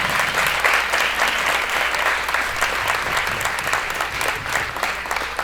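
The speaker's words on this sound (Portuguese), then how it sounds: "eu queria aplaudir isso e agradecer ao Felipe." Sustained applause fills a packed cinema after a screening of a restored classic Brazilian film, dense steady clapping from a large audience, loud and continuous throughout with no talk over it.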